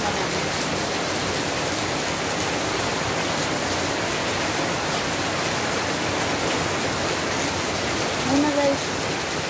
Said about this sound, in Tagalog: Ay, malakas ang ulan. Sobrang lakas.